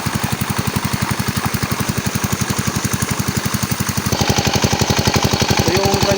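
A small engine powering a water pump for irrigating a bitter gourd field chugs loudly and close by in a fast, even knocking rhythm, growing slightly louder toward the end.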